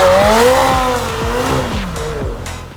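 Tires squeal loudly in long wavering screeches as a McLaren sports car's engine revs and drones close by, sliding in repeated arcs doing donuts.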